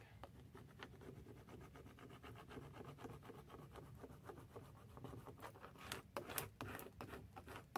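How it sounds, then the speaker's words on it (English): A Dollar Tree Cricut craft tool scrapes across a craft surface, making a faint, quiet run of rubbing and rasping strokes that turn into sharper, quicker scrapes toward the end, without talking. "Maybe I didn't scrape it enough."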